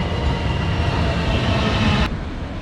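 Loud, steady rumble of an LRT or KTM train running through Bandar Tasik Selatan station in Malaysia. The rumble carries on close by, then drops suddenly near the end.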